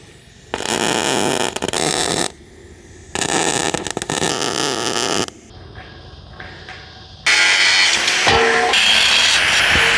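A power saw cutting off extra length from a welded steel frame on a tiny home build, running in three loud sustained bursts with short pauses, the last cut harsher and brighter, no talk.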